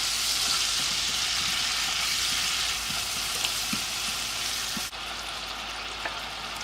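Seasoned meat frying in a pan, a loud steady sizzle with soft scraping and clicking as it is stirred, no voices over it.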